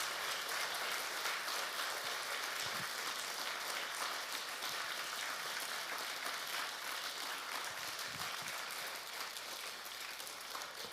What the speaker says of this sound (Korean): 우리 크게 박수하겠습니다.